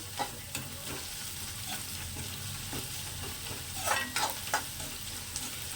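Onion, garlic and grated ginger sizzle in a pan for a baby corn sabzi, a steady frying hiss broken by a few stirring scrapes and clinks of a spoon.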